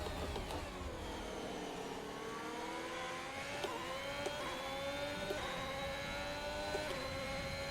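Formula 1 race car engine in the F1 2021 racing game, revving and shifting with rising and falling whine, steady and moderately distant, no talking.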